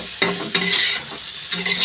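Salted potatoes stir-fried in a pan, with a close, steady sizzle broken by three sharp scraping strokes of the spatula.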